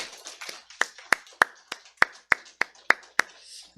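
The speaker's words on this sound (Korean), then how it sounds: "우리 박수로 환영합니다." A small church congregation at a Sunday service claps in welcome, about a dozen sharp, roughly even claps ringing out close and clear in a quiet room.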